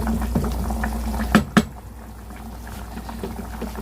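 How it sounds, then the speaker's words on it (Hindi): A pot of dhokli (besan khandoiyan) in water boils on a stove, a close soft bubbling and simmering with a couple of brief clinks or splashes partway through. "तो गाइस इसमें बॉईल आ चुका है।"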